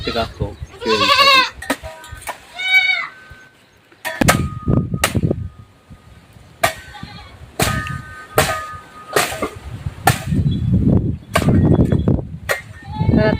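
Goats bleat loudly and repeatedly nearby, with quavering calls at the start and shorter bleats and rustling later, mixed with some talk, while mulberry leaves are fed to them.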